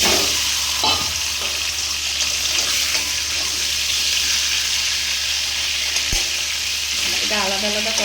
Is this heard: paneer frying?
yes